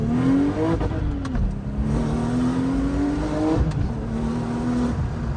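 A rebuilt Porsche 911 Turbo engine revs high and steady, twice cutting off abruptly at about 6,000 rpm as it bounces off the limiter, loud and close.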